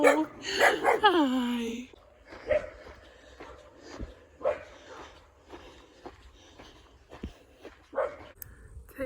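Dogs along a roadside on Florida Trail bark, yip and whimper in scattered short bursts at moderate distance, while a hiker greets them at the start.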